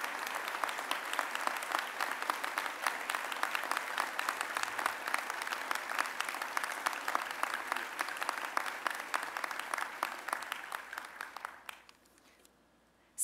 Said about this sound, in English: So please join me to give a round of applause to all our generous donors.